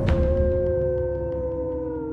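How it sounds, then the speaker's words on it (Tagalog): Dogs howl in a gusting wind as an audio-drama sound effect, a sustained wavering wail over a steady rushing roar, loud and continuous with no talking. "Mas lumakas ang ihip ng hangin at ang alulong ng mga aso."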